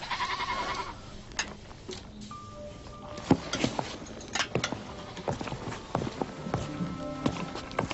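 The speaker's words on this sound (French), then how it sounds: "Que fait la chèvre ici? Elle est seule?" A goat in a rural fairy-tale setting bleats in short nasal calls amid clattering footsteps and hoof-like patter, with knocks and movement throughout and no talk.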